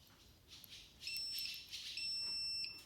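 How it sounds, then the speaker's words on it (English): Electronic beeping from a device used to activate the clutch on a 1997 Oldsmobile Cutlass Supreme SL, sounding as thin high tones that start faint and grow louder in longer steady bursts over a hiss of background noise. "Okay, I hear this beeping. That's letting me know it's working."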